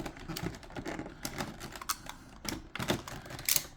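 Scissors snip and crackle through stiff plastic blister packaging to free the slime pieces of an anime figure, sounding as close, irregular cuts and rustles with no one talking.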